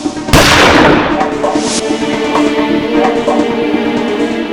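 A single sharp gunshot sound effect rings out near and loud with a sudden broadband crack, then a long echoing tail and low rumble under a steady background.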